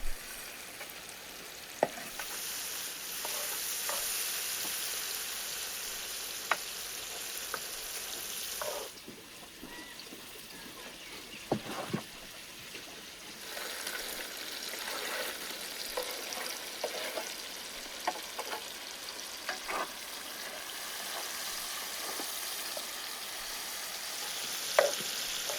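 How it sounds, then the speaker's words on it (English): Bell peppers and onions roasting with kokorech in leftover intestine fat give a steady sizzle, with intermittent stirring clicks and scrapes throughout, close and moderately loud, with no talking. "I'll roast them in the leftover fat from the intestines."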